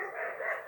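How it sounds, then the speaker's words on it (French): Dogs bark at a distance in a brief, steady, muffled stretch of overlapping barking, moderately loud and heard without any talking. "il y a des chiens qui aboient"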